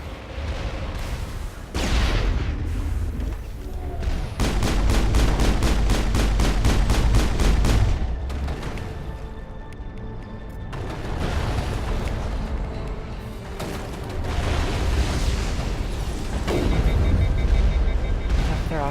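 Loud, dense bursts of rocket explosions and rapid automatic gunfire erupt in Mass Effect 1, with heavy booms and a sustained rattling volley, swelling and fading in repeated waves.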